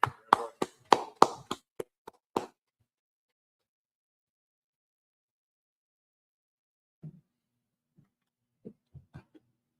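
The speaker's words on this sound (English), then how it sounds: "Y'all clap it up." Brief audience clapping after a class session, a quick burst of about ten sharp claps over two seconds, fairly close, then near silence with a few scattered faint taps and knocks.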